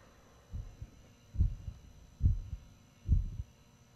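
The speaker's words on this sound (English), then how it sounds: "Does anybody hear a heartbeat?" A heartbeat thumps in a video game, four low, muffled double beats at a slow, even pace with soft hum between them and no talk.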